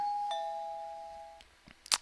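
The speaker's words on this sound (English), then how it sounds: "The doorbell suddenly rang, and Yume pulled away from me." A doorbell in a Japanese visual novel game chimes once, a clear ding-dong tone ringing out and fading against a quiet background, followed by a couple of faint light knocks or taps.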